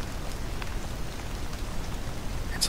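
Rain ambience in Stardew Valley, a steady soft hiss of falling rain with faint scattered droplet taps, continuous and even throughout.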